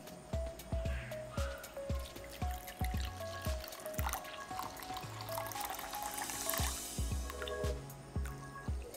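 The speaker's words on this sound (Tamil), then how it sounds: "இனி இதுல வந்து தண்ணி ஊத்தி நல்லா மிக்ஸ் பண்ணிக்கிறேன்." Water is poured into a glass bowl containing Vim dishwashing gel and stirred, giving a run of repeated drips, splashes and squishy sloshes in an uneven rhythm, close by with no speech.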